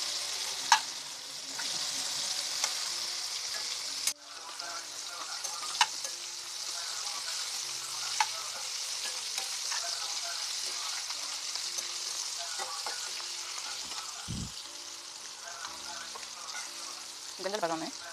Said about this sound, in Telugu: బాగా క్రిస్పీగా వేయించనండి,